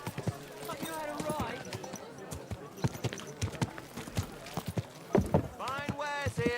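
Horse hooves clip-clop in the Kingdom Come Deliverance 2 video game, a close, steady run of crisp knocks with a brief whinny and spoken voices over the hoofbeats.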